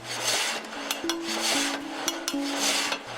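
A water-powered frame saw cuts steadily through wood with a rasping sound, repeated strokes and faint mechanical clunks from its ratcheting feed mechanism in a regular rhythm, fairly close.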